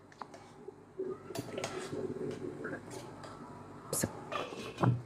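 Taro and meat stirred together in a cooking pot, giving light clinks and scrapes of a utensil against the pot at close range, with quiet speech over part of it.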